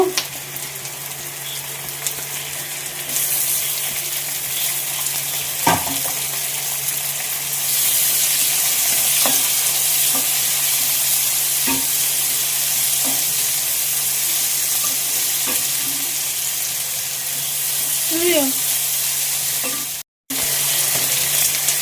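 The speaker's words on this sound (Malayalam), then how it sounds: "സവാള ഇട്ട് കൊടുത്തു" Sliced onions frying in a pan for a Kerala-style pork dish, a steady close sizzle running throughout with occasional stirring clinks and scrapes.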